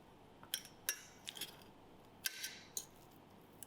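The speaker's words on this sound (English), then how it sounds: "So after we have peeled off the potato skin, then we start to smash it." Peeled potatoes are smashed in a bowl, heard as faint, sparse metallic clinks and taps of a utensil spaced irregularly in a quiet room, with no talking.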